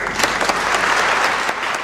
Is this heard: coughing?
no